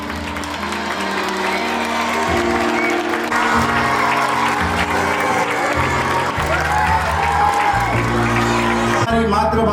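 Audience applause at a school alumni meet, a dense, sustained round of clapping from a large crowd with scattered whoops and cheers, loud and close throughout, with a voice speaking over it.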